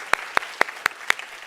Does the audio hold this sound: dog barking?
no